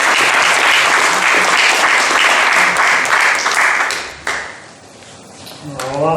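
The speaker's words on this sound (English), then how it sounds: "just give a round of applause to George" Loud, sustained applause from a technology community meeting audience in Melbourne, Australia fills most of the clip, then fades out near the end.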